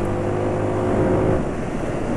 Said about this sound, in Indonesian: Bunyi bramnya itu bunyi resonansi udara masuk ke filternya.